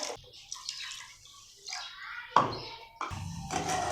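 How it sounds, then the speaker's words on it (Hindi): Water poured onto sugar in a pan for jalebi syrup, heard as a few short splashing pours and thunks with drips in between, close and moderately quiet, no talking. "3 कप चीनी में हमने 2 कप पानी डाल देना है।"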